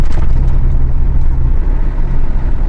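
A car pulling away and driving off, a steady loud engine rumble with broadband road noise that holds for a few seconds without fading much.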